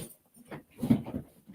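Pet dogs shuffling about indoors, giving soft whimpers and small scuffling noises in a few short bursts, close and fairly quiet.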